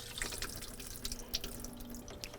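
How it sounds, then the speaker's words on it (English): Water drains from the pan of an undercounter ice maker with the cap removed, a steady close splashing trickle with small drips and gurgles throughout. "empty the water pan by taking the water valve, the water cap off, allowing it to completely drain"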